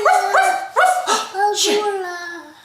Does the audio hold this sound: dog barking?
yes